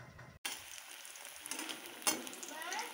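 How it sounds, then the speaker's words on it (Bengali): Paneer pakoras fry in gram flour batter, giving a soft, steady sizzle and crackle in hot oil. The sound starts just after a brief dropout, stays quiet and close, and has a few louder pops. "বেসন দিয়ে একটু পনিরের পকোড়া টাইপের ভেজে নেব"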